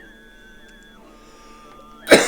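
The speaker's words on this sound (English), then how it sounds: "Sorry, I got the coughs." A person coughs once, loud and close, at the very end, after a quiet stretch of faint steady tones in the background.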